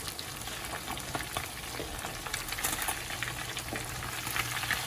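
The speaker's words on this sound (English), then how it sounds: "my fish is frying" Steady loud sizzling of fish frying in hot oil in a pan, with occasional soft scraping and crackles throughout.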